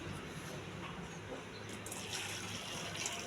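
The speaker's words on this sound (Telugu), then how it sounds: "ఫస్ట్ ఈ బ్రొకోలీలో మరిగించి నీళ్ళు వేయాలండి." Boiled water being poured onto chopped broccoli for a broccoli curry, a steady splashing trickle under a faint background hum, growing slightly louder toward the end.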